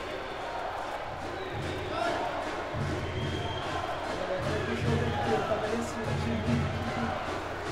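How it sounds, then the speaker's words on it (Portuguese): A futsal crowd at a Copa União match chants a repeated rhythmic cry in a large echoing gym, a steady, moderately loud roar with pulsing low chant beats throughout. "Aquele coro de timinho, timinho, timinho."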